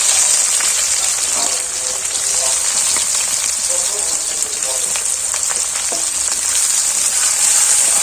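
Bay leaf and onions frying in hot oil with a pinch of sugar, giving a steady, dense sizzle that runs without a break from start to finish.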